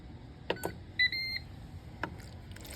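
Multicooker control panel set to sear/saute on high while cooking chicken fettuccine Alfredo: a few soft clicks, then a short two-tone electronic beep and a longer held tone, faint in a quiet kitchen.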